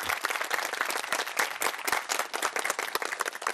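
An audience at a lecture claps together in steady, dense applause, a sustained patter of many hands without any voices over it.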